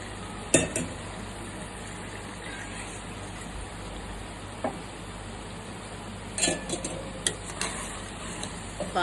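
Country chicken pieces fry in a pan and are stirred, making a steady hiss broken by occasional sharp clinks and scrapes of the utensil against the pan, with no talking.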